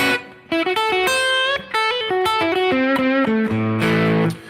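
Clean electric guitar with reverb and delay plays a melodic line of sustained notes, each note ringing on as delayed repeats trail behind, steady and close.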